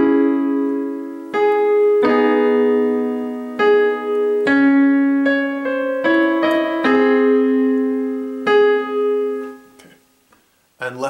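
Solo piano playing the right-hand melody of a song from Over the Garden Wall, a clear run of single notes and chords rising and falling, close and alone, ending in a brief pause with a final quick note.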